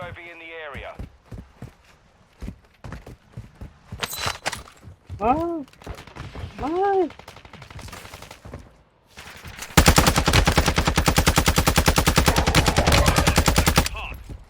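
Rapid automatic gunfire in Call of Duty Warzone 2.0 around the KV Broadside shotgun, a dense loud burst of repeated shots late on, after scattered shots and voices talking earlier.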